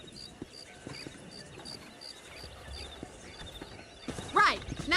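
Horses in a Red Dead Redemption ranch scene: soft hoof clip-clops and snorts over a quiet outdoor ambience, then a loud, close neigh rises near the end.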